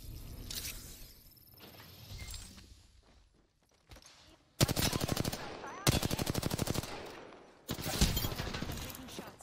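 Gunfire from Apex Legends, rapid automatic bursts in three loud stretches with brief gaps, preceded by quieter game ambience and some muffled activity.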